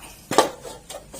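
A frying pan set down on a camp stove at a simple shelter campsite: one close metallic clank followed by a lighter knock, brief and alone.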